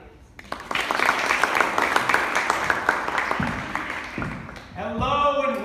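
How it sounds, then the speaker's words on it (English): Audience applause during a stage play, a loose patter of claps that builds and holds for several seconds, then fades as a voice begins speaking near the end. "Applaud from the audience."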